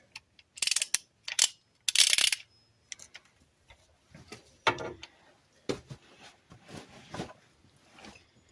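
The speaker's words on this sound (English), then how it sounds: "Now we tighten it down to 80 foot-pounds." A torque wrench ratchets in short bursts while tightening an axle part to 80 foot-pounds on a 1998 Ram 1500, with sharp clicking strokes at first followed by quieter, scattered clicks and handling noises.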